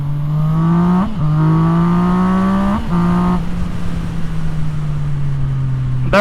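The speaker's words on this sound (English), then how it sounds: "Hard acceleration and hard braking." A motorbike accelerates hard and brakes hard to warm its tires, the engine rising loudly through quick upshifts, then easing off into a long falling drone close by, with no one talking.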